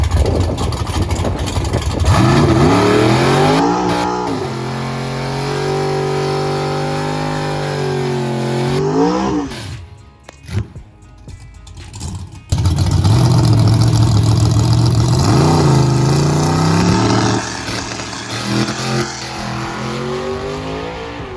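Chevrolet Nova drag race car with a gutted small block 350 V8, loud and close, rumbling at idle with repeated throttle blips and revs, a brief drop to quiet, then more hard revving.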